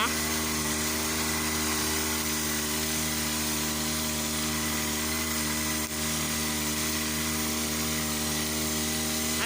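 An engine-powered backpack sprayer runs steadily at a constant high-pitched drone, loud and close, spraying fermented plant solution in a farm field, with no change in pace.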